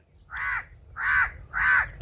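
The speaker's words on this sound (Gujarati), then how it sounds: "જો આવે ને મિત્રો કાગડો" A crow caws three times in a steady rhythm, harsh and loud, close by and alone over faint background hum.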